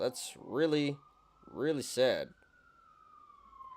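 An emergency vehicle siren passing outside holds a thin, slowly falling wail in the background while someone talks over it in the foreground.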